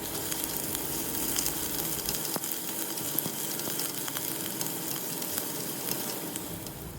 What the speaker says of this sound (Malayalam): ഒരു പിടി കൊച്ചുള്ളി ചെറുതായി അരിഞ്ഞതുകൂടെ ഇട്ട് നന്നായി ഒന്ന് ഇളക്കിയെടുക്കാം